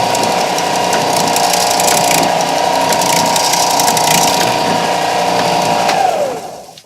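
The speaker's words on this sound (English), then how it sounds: "Sounds like that's hitting the brass now." Close, continuous grinding drone of a sander scraping a brass pen tube, steady and loud before spinning down.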